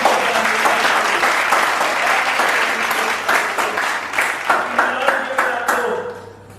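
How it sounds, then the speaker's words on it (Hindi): Loud applause from a studio audience at a televised quiz show, a dense sustained burst of clapping that thins into scattered claps before fading out. "जोरदार तालियां"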